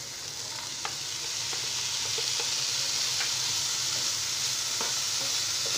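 Finely chopped potato and carrot sizzle and are stirred in hot oil in a pan, giving a steady soft frying hiss with occasional light clicks of the spatula against the pan, close and quiet.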